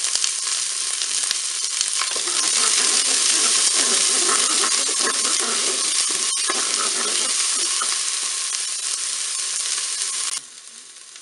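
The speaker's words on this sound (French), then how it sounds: "je vais faire revenir mes oignons" Onions fry in olive oil inside a Cookeo electric pressure cooker, giving a loud, steady sizzle with a few stirring scrapes and a brief clink before the sound drops abruptly near the end.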